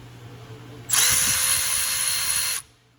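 A Milwaukee Fuel 2560-21 extended-reach 3/8 electric ratchet runs unloaded in a single close, steady high whir lasting under two seconds, starting and stopping abruptly.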